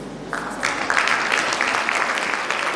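Audience clapping for the youngest solo piano contestants at a music competition's closing ceremony, a moderate crowd applauding steadily after a brief quieter opening.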